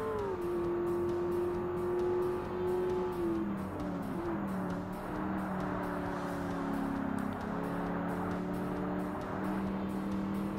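Race car engines in the Forza Motorsport racing game drone steadily with shifting pitch, one car running close behind a black TVR Tuscan in an A Class endurance race, continuous and alone.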